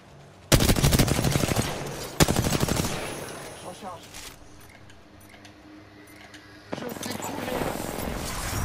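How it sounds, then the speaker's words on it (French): Loud automatic gunfire in Apex Legends comes in dense rapid bursts, with a long volley at the start, a second short burst, and renewed firing near the end, separated by quieter gaps with game sounds. "Je tire"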